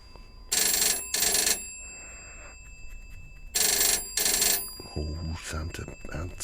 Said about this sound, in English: Oh no, it's ringing.